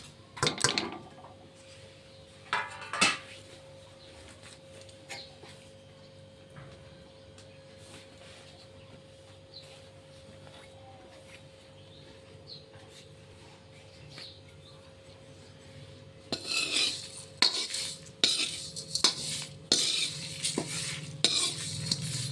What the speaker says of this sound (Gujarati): હવે આપણે જે આ બધા મસાલા લીધા છે એને આપણે આ કઢાઈમાં શેકી લેવાના છે